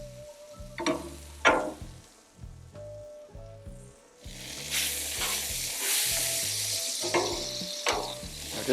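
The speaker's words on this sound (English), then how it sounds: "We just want to stir our gravy every so often and make sure we don't scorch it on the bottom" Leftover gravy reheating in a pan, stirred with intermittent scraping strokes over a low bubbling sizzle that grows louder and hissier in the second half, with some clinks of the utensil.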